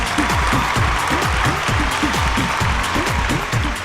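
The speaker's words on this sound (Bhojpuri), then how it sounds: "जोरदार ताली से स्वागत करें" An audience applauds to welcome a singer to the stage at a singing competition, a dense, loud, sustained clapping from many hands with a presenter's voice running over it.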